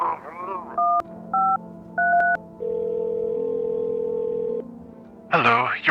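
Telephone keypad tones in the video game No, I'm Not A Human: several short beeps dialed in quick succession, then a long steady tone and a lower hum, with a voice briefly at the start and end.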